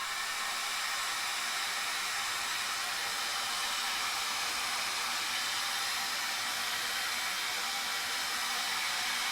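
A dryer blows hot air steadily over a foam cosplay chainsword, a loud constant hiss-like whoosh held close to the microphone for the whole stretch, with no talking.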